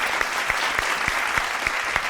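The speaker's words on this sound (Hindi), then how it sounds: "और तालियां।" Studio audience at a game show applauding a prize win, a dense, steady crowd clapping with rhythmic accented beats roughly every third of a second, loud and close with no voices over it.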